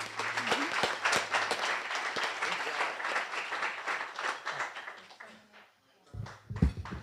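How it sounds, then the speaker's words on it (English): Applause from attendees at a Rotary Club lunch meeting welcoming an inductee, lively overlapping claps that thin out and fade, followed by a brief thump and handling noise. "let's firmly welcome him with a hand of applause"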